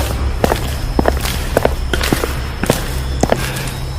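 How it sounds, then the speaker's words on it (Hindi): Shoe footsteps in a dark, deserted room full of corpses, staged as a horror-story effect: about a dozen evenly paced, close steps with sharp scuffs and heel knocks, alone with no talking. "अचानक उसे अंधेरे में किसी के जूतों की चरमराहट सुनाई दी, जैसे कोई उसकी ओर बढ़ रहा हो"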